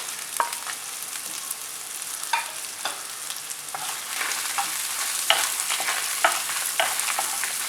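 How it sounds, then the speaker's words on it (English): Red chilies sauté with small onions and garlic in a pan for a spicy Andhra chutney, a soft continuous sizzle broken by occasional sharp stirring scrapes and taps. "So I'll be sauteing the red chilies for about a minute."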